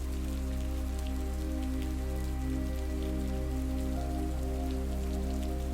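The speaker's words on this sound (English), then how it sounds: "Now the window pane beginning to leak with rain." Steady rain falls outside a cabin in the woods, a constant dense patter on surfaces with a low rumbling bed underneath, even and unbroken throughout with no voices.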